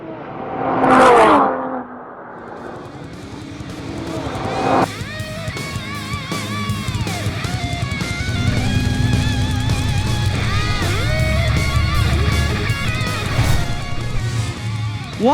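A BMW M240i xDrive launches on a timed acceleration run, the engine climbing through a long rising whine with repeated gear-change dips, loud and close, after a brief squeal at the start.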